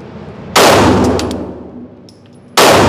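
A Glock 43X pistol fitted with an extended beavertail backstrap fires two loud, close shots about two seconds apart, each a sharp crack followed by a ringing decay, with no talking.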